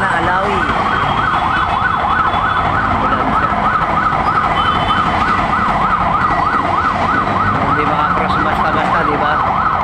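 Emergency vehicle siren wailing loudly and continuously in rapid up-and-down cycles close by on a road, with traffic rumble beneath and no clear speech.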